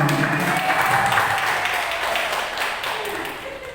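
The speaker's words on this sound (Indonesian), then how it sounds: "Tepuk tangannya mana?" Audience applause at a school vision-alignment meeting, a steady broad wash of many hands clapping that slowly fades toward the end, with faint talk underneath.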